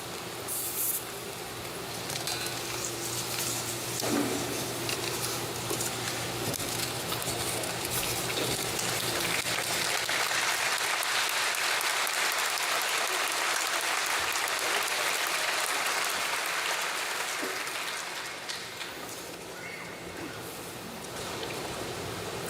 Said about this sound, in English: every person acknowledged with your applause